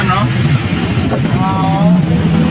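Motorized tricycle engine puttering along while riding on a local road, a rough steady hum with some rising revs, heard under close conversation between passengers.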